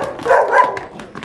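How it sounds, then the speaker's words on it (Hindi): A dog barks and yips in a short excited burst close by, with a whimpering edge and no speech over it. "कुत्ता आ गया"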